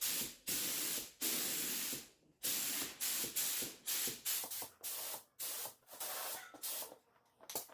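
Aerosol spray can laying a second coat of rust converter onto a rusty metal part, heard as a string of sharp hissing bursts, long at first and then shorter and quicker, close and loud with brief silences between them.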